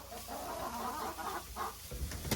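A hen in a farm coop gives a few low, soft clucks, faint and close, with rustling around her and no speech.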